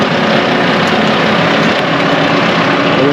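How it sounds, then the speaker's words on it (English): A tractor engine runs steadily in a field during Christmas tree planting, a loud continuous rumbling drone with no pauses or talking. "Jeff's job up in the tractor there is to just drive a straight line"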